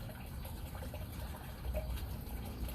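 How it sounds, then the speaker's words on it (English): Cold water running steadily from a tap or stream, a continuous broadband gush and trickle at moderate level with no talk over it. "Running water, all this will slow down and calm down"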